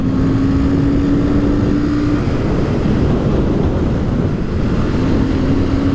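Royal Enfield Super Meteor 650 motorcycle pulling through its gears on the road, a dense, loud, continuous engine drone buried in heavy wind rush, with a faint steady tone holding underneath.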